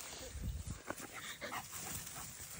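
A German shorthaired pointer on a hunt gives several short yips and whimpers over a dense, noisy outdoor background, with faint voices mixed in.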